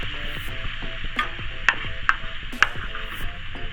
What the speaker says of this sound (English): So I'm going to brown the turkey first